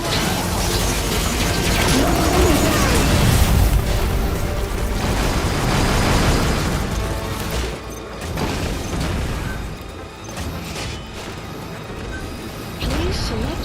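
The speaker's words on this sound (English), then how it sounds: "That explodes! That explodes!" Explosions in the Metal Gear Solid V video game, a sustained loud roar of blasts and rumbling debris with mechanical clatter that fades slightly and then returns, with no voices.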